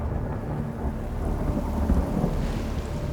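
Steady roar of heavy rain with deep, rolling thunder rumbling continuously underneath, loud and close throughout with no voices.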